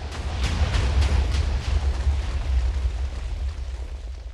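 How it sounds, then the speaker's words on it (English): A dense, roaring rumble of repeated video game explosions, loud and continuous with bursts of crackling debris on top. "the explosions are definitely powerful enough to take that out"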